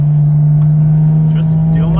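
A 6-speed BMW M2 CS climbing uphill on a twisty mountain road, its engine a loud steady drone throughout, with faint interior noise and no talk.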